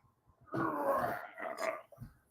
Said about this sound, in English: that was my one dog. He was growling at something.